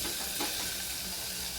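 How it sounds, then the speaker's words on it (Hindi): Tomato and curry leaves fry in a pan with softened onion, giving a steady, faint hiss of sizzling oil throughout a short stretch, with no talking. "अब इसके अंदर मैं टोमेटो और कड़ी पत्ता ऐड करूंगी।"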